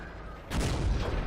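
A single heavy tank cannon blast in a video game, fired by a Type 97 Chi-Ha, bursts in mid-clip, booming loudly and rolling on with a rumbling tail.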